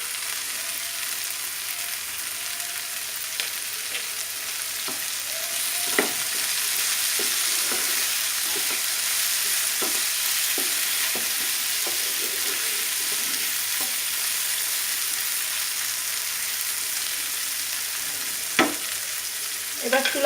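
Dried chepa fish bhuna sizzles and fries steadily in a pan with coriander leaves added, a constant hiss broken by scattered scrapes and taps of stirring, close and alone without talk.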